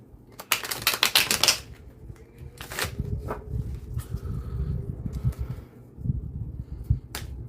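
Tarot cards are shuffled hard in quick riffling bursts, crisp and close, with softer rustling and tapping between them and faint background noise.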